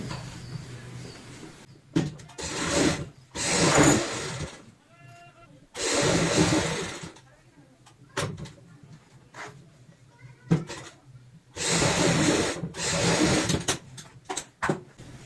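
A sewing machine runs in several bursts of rapid stitching as a denim travel bag made from old jeans is sewn, with pauses and handling noises between runs.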